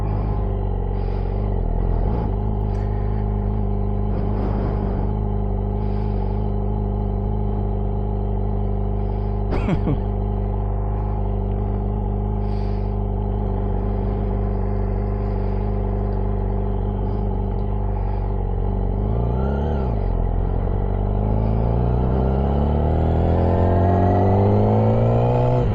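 A Yamaha R6 sport motorcycle rides along with a steady loud engine drone and rumble, rising in a rev near the end, plus wind noise throughout.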